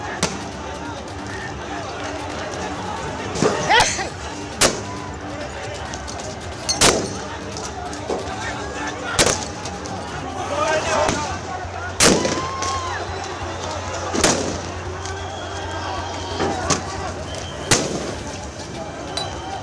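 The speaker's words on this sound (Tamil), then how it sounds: "துப்பாக்கி குண்டுகள் துளைக்கும் சத்தம் கடும் பதற்றத்தை ஏற்படுத்தும் வகையில் உள்ளது" Sharp gunshots fired by the army during a protest in Nepal ring out one by one at irregular intervals, about ten loud cracks over a busy background of crowd noise and distant voices.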